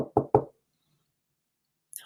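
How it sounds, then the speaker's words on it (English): Three quick, sharp knocks at a door, close and distinct, followed by silence. "Just then, there was a knock at the door."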